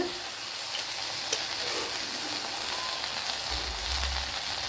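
Fried onions with red chili sauce sizzle in a pan, a steady close crackling hiss that carries on without a break, with a soft low bump near the end and no voices.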